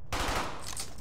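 Dense rapid gunfire from a World War II battle in Brothers in Arms: Hell's Highway, with continuous overlapping shots and a loud, sustained clatter filling the whole short burst.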